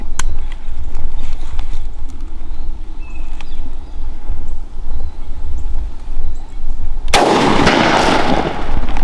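A single loud shotgun blast at a turkey gobbler rings out close by near the end, following a stretch of steady outdoor rustle and low background noise by a creek.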